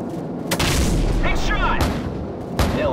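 Heavy cannon fire and booming explosions from an AC-130 gunship in Call of Duty 4, with several loud thumping blasts, rumbling tails and chirping radio chatter between shots.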